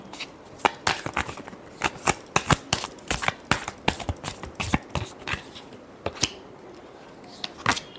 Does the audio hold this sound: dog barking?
no